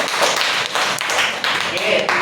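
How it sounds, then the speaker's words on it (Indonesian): A classroom group claps for a student during an elementary lesson, giving a brief patter of fairly close hand claps with voices talking over it. "tepuk tangan buat Nina dulu"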